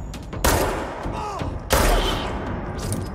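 Gunfire in the action video game Control: two loud, sharp bursts of shots, each followed by a rumbling, echoing tail over steady in-game background noise.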